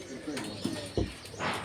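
Pigeons coo in a Bohol wildlife sanctuary, a few soft low throaty calls spaced apart, with a rustle of wings or movement and people talking nearby.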